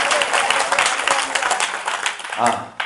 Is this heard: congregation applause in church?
yes